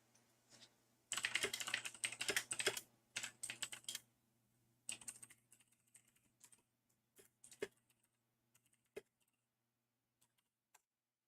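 Keys clatter as a pet named Bean walks across a computer keyboard, a dense burst of random clacks followed by scattered, sparser taps fading into quiet.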